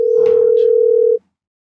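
A telephone ringback tone heard while a call connects, one loud steady electronic tone held for about a second before it cuts off into silence.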